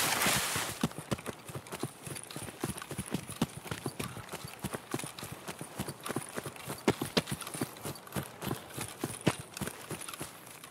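Players' boots in Escape From Tarkov pound out a rapid, heavy run of thumping footsteps, close and continuous like galloping hooves, with brief quiet voices in the background.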